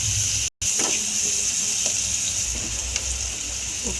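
Vegetable pieces for a Telugu-style curry fry in a pan, giving a continuous bright sizzle and hiss with a few soft stirring knocks and a very brief dropout near the start.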